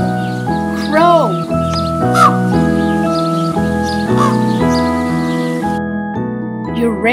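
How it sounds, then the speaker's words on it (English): Several hoarse crow caws sound over loud, steady melodic background music, with a few short calls spread across the stretch. "Crow."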